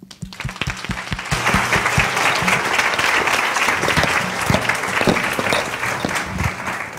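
Steady, dense applause from a conference audience welcoming a keynote speaker at a women leaders event, building quickly and holding loud and continuous with no voices over it.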